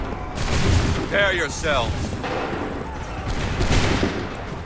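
Musket volley fire in the Assassin's Creed III battle, a dense burst of overlapping gunshots rolling over shouted commands, with the booming clatter continuing loud and close throughout.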